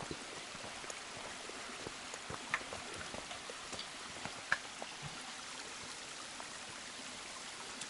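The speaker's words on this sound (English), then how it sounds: "This here's a seasonal stream at mile 548. Seems to be running pretty good." A seasonal mountain stream at mile 548 of a trail, flowing steadily with a soft, continuous wash of water and small scattered splashes, moderately distant and fairly quiet.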